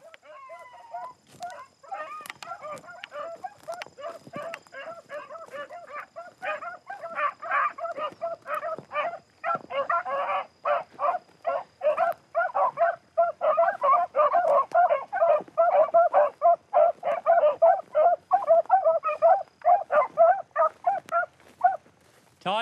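A pack of beagles bays and yelps on a rabbit hunt, many overlapping rapid cries building from scattered barks to a dense, continuous chorus, fairly close and loud.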